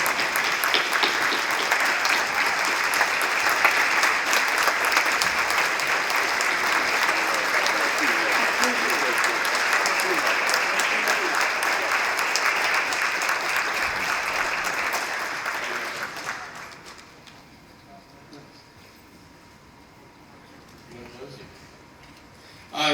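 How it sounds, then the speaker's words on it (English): Sustained applause from the audience at a high school hall of fame ceremony, steady and full for about sixteen seconds, then fading to quiet room tone with faint talk. "give Mark a big round of applause"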